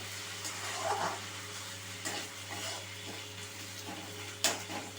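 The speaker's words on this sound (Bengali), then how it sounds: "এই আদা রসুন বাটাটা দেওয়ার সাথে সাথে আমি আরও কিছুক্ষণ একটু নেড়ে নেব" Ginger garlic paste being stirred in a pan for spicy ghugni, a soft sizzle with a few clinking, scraping spoon strokes against the pot, fairly quiet and close, with a steady hum underneath.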